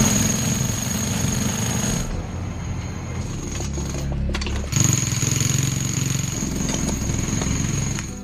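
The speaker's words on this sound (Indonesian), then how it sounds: "Karena suara bor itu berisik" A loud drill rattles steadily while tunnelling, with a brief dip in the middle before it resumes at full strength.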